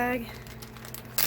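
A plastic freezer bag crinkles and rustles up close, loudest at the start and again in a sharp burst near the end, with a low hum beneath, while blueberries are being bagged after a salad spinner.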